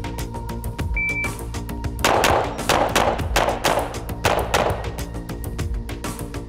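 Glock pistol shots fired at targets in a practical shooting drill, a rapid string of loud sharp reports in quick succession with a short pause partway through, outdoors on a range.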